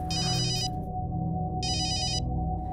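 A telephone rings in two electronic bursts separated by a pause, steady and fairly close, over a low background hum with no talking.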